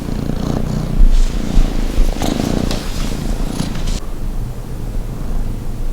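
Cats purring loudly and close up, a continuous low rumbling purr that pulses steadily without a break, with no voices.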